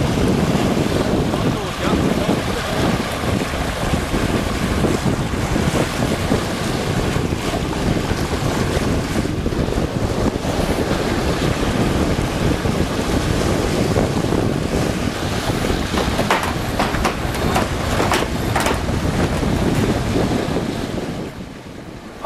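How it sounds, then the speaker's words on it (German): Strong wind and heavy waves while sailing a catamaran off Norway, loud constant wind buffeting and rushing water with breaking splashes, easing slightly at the very end. "Außen hat es bei diesem Wind doch ganz erhebliche Wellen"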